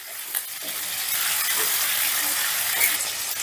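Chili fish stirred in a pan over low heat, with a continuous broad sizzle and soft scraping strokes running steadily throughout, close and fairly loud, with no voices.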